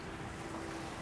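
Sea waves wash continuously along a shore, a steady broad rush of surf mixed with wind, close and even, with no voices.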